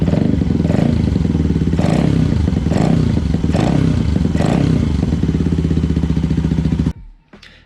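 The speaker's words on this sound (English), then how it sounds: "let's put this in for the last time and fire up the bike" Benelli motorcycle fitted with a homemade intake, engine running loud and close with a steady throbbing idle and rhythmic pulses, then cutting off abruptly near the end.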